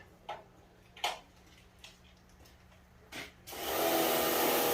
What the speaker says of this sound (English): working on pressure washing the Miata. That's what you guys hear in the background.